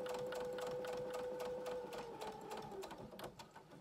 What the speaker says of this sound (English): Gonna do a back stitch.